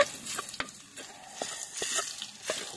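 Tomatoes are sautéed in a pan for Filipino ginisang kamatis, with a soft, steady sizzle broken by several sharp scraping stirs of a utensil, heard close and without talk.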